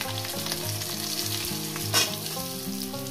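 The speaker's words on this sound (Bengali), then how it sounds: "প্রথমে আমি আলুগুলো আগে দিয়ে 3 থেকে 4 মিনিট আমি এটাকে ভেজে নেব।" Potatoes frying in hot oil seasoned with five-spice for a greens, potato and eggplant chorchori, a steady close sizzle running throughout with a brief sharper crackle near the middle.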